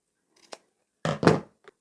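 Scissors snipping elastic to length for a fabric tissue box cover, a light snip followed by two firmer close cuts in quick succession, then a faint click.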